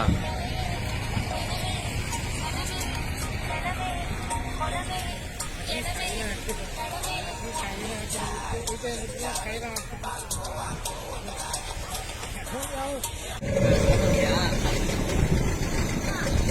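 Motorboat engine running steadily in reverse after starting, a continuous low mechanical drone with ticking components, heard under ongoing talk and background chatter, with a louder surge near the end.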